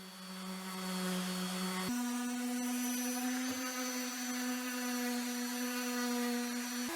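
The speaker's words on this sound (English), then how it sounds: "just doing a final sand with 220." Power sander with 220-grit paper doing a final smoothing pass on a wooden noodle board, removing pencil marks from the top rails; a steady, loud motor whine with a close, even hum throughout and no talking.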